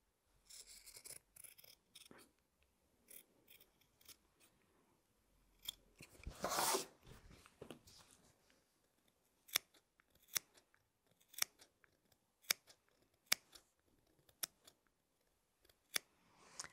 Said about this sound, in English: very carefully cutting into the stitching of the curve so that when we turn it through